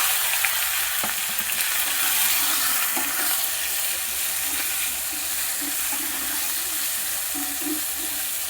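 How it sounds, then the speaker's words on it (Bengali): Crab pieces fry in a pan with ginger paste, a continuous loud hiss and sizzle filling the whole stretch, broken by a few faint clinks and stirring scrapes, with no talking. "একটু কাঁকড়াটা ভাজা ভাজা করে নেব।"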